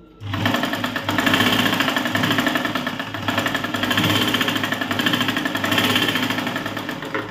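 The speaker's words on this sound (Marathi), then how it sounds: "आता आपण टिप मारून घेऊया." A sewing machine stitches a 1.25-inch strip of blouse fabric in a continuous loud, fast mechanical whir with a steady pulsing rhythm, close up and without talk.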